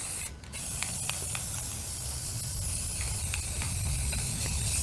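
A spray can hisses steadily as paint is sprayed onto cabinet pieces, a continuous close hiss with a brief pause near the start and a few faint clicks.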